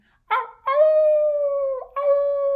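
A human voice imitates coyotes howling: a short yip, then two long, clear, sustained howls, close and loud.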